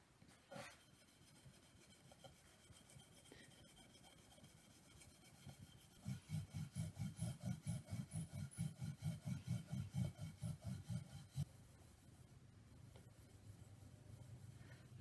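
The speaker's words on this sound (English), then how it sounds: "I'm going to use a gray scuff pad to take away the shine from this handle" Gray scuff pad rubbed against a shiny handle for a WWI trench club, a faint scratchy back-and-forth scrubbing that settles into a steady rhythm of quick strokes, close and quiet.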